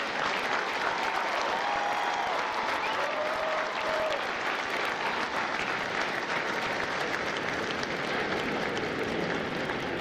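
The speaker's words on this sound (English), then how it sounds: "please join me in a round of applause for the company staff of the company." Steady, sustained applause from a large crowd at a Marine Corps recruit graduation ceremony in San Diego, even and continuous with no talking over it.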